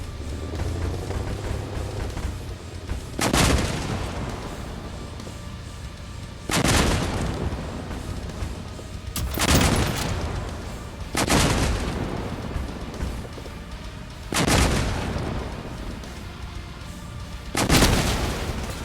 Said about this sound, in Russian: Проверим, за сколько выстрелов бураны уничтожит холодильник.